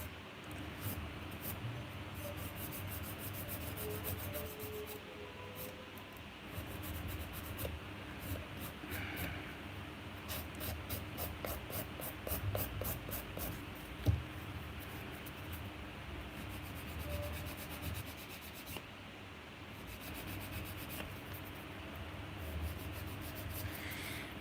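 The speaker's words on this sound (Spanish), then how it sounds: "Y sigo bajando para ir limando toda la uña." A nail file scrapes across an acrylic nail in quick, steady, close-up rasping strokes. The strokes are faint and run continuously with short pauses, and no one talks over them.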